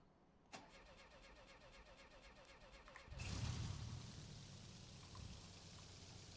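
An air-cooled VW Gol with a 1.6 liter carburetor engine in BeamNG.drive clicks, cranks rhythmically for a few seconds, then catches and settles into a steady, fairly loud idle.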